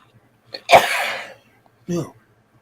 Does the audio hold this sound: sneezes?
yes